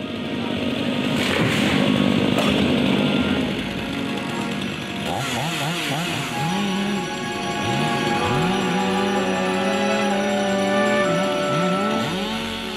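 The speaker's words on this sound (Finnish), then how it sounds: "saha soi taustalla" A chainsaw cuts aspen trees in a church park at the start of church construction, close and loud, with the engine revving up and down repeatedly through the cuts and no talk over it.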